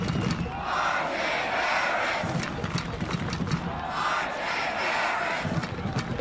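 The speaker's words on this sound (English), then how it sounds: "The R.J. Harris chants as he leaves the field." Football stadium crowd chanting a senior wide receiver's name as he leaves the field at an Illinois State versus New Hampshire college game, a loud rhythmic roar that swells and falls in repeated waves.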